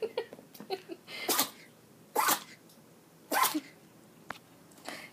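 A puppy sneezes three distinct times, sharp close bursts spaced about a second apart, with small snuffling and movement noises in between.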